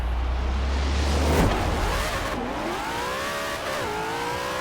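Engine revving hard as a Ford Mustang RTR with an all-wheel-drive drag tune launches in Forza Horizon 4, a loud continuous roar with pitch sweeping up through quick gear changes, no voices.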